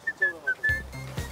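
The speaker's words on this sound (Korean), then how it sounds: "형 탈 때 가면서 휘파람 한번 불어야 되는 거 알죠?" Short, pitched whistled notes repeat in a loose melody, then low voices and rustling noise take over in the second half.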